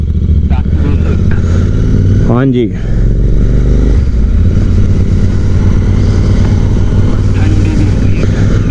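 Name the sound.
Royal Enfield Interceptor 650 motorcycle engines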